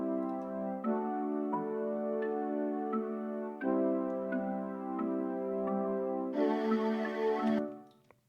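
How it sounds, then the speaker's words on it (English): Dark chorused synth pad from an Odin plugin, playing sustained chords that shift every couple of seconds, with a brighter swell near the end before fading out, soft and alone. "So this is the darker pad that plays with the marimba and emulator vocals."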